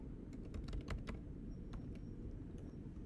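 Quick, light keystrokes on a computer keyboard, a short burst of close clicking over a low background hum, tapering to a few isolated taps.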